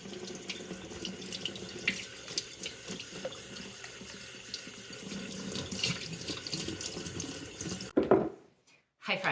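Tap water runs steadily into a container to soak ranunculus corms, a close, continuous splashing gush that stops abruptly near the end, followed by a brief quiet gap.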